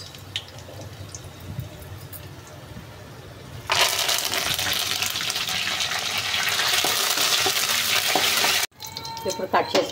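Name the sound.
dried red chillies and curry leaves frying in oil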